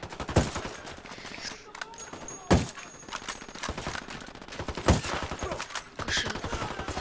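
Sustained automatic gunfire and scattered louder shots in the video game Ghost Recon, a continuous rattling barrage punctuated by several sharp heavy blasts, with faint voices mixed underneath.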